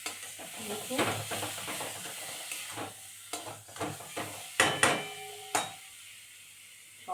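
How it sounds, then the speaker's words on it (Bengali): A spice masala with Kashmiri chili is stir-fried in a pan: a steady sizzle runs underneath while a spatula scrapes and stirs in irregular, close strokes, several of them sharp and loud. "আমি একটু কাশ্মীরি লঙ্কা দিয়ে দিচ্ছি, দিয়ে মশলাটাকে ভালো করে কষিয়ে নেব।"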